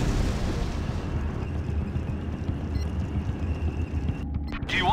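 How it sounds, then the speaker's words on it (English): A building is destroyed in a heavy explosion in the strategy game Act of War: High Treason during a desert siege, a sustained, rolling low rumble that stays loud throughout. "Building destroyed."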